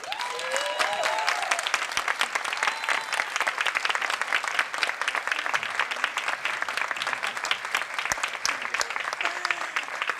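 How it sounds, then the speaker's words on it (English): A conference audience applauds at a data festival closing ceremony, sustained dense clapping at steady volume for ten seconds, with a few faint voices and whoops mixed in. "So please join me in giving Claire a round of applause."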